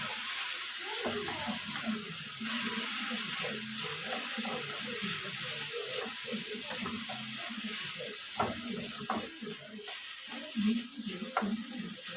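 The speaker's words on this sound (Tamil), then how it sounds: "வெங்காயமும் பச்சை மிளகும் நல்லா வேகணும்" Onions and green chillies frying in a pan for a fish thoran, a steady low sizzle with soft stirring clatter throughout, close and moderately quiet, without talk.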